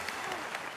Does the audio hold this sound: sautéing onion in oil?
no